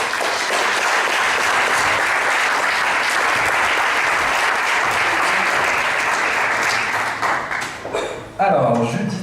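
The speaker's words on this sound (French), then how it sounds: "je vous demande de les applaudir s'il vous plaît" An audience applauds loudly and continuously as speakers join the stage at an entrepreneurship evening, a dense, sustained roar of clapping that thins and breaks off near the end, where a voice begins.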